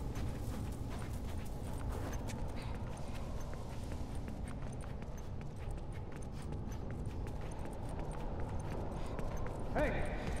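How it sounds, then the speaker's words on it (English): Horse hooves clip-clop steadily in The Last of Us: Left Behind, a continuous dense rhythm of game footsteps and mechanisms under occasional voices. "Hey, I hear the fucking horse behind you."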